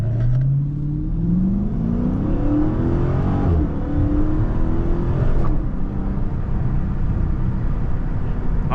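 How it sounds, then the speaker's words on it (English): A Dodge Challenger Scat Pack Last Call engine revs loudly up and down, rising and falling in pitch as it accelerates, close and continuous with a steady throaty rumble. "I know y'all hear this engine"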